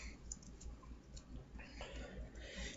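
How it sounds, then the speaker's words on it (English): Playing cards riffle-shuffled repeatedly, giving a quiet, continuous patter of soft clicks and ticks that rises and falls in short bursts, heard close with no talk. "Just do the whole 7 shuffles, get it shuffled really good"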